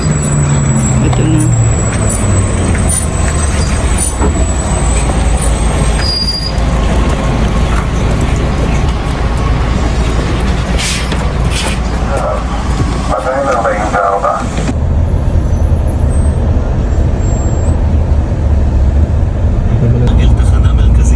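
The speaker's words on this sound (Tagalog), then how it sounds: "Ito na guys, yung sasakyan naming bus." Bus pulling in on a busy city street in Israel, with heavy engine rumble, traffic noise and a sharp hiss of air brakes, while people talk over it.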